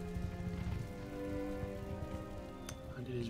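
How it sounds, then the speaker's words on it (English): Rain falls in the battle game Empire: Total War, a soft continuous hiss under a low drone of game music and ambience, steady for a few seconds and heard without talk. "And it is raining, which is lame."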